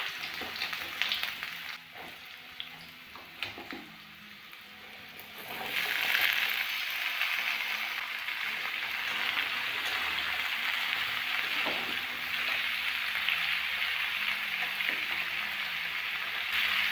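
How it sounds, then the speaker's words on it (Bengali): Potatoes and vegetables fry in oil with panch phoron: a few clinks and stirs, then a loud, dense sizzle swells up and holds steady without talk. "তেলের মধ্যে পাঁচফোড়ন দিয়ে দিলাম, আলু আর সবজিগুলো দিয়ে দিলাম।"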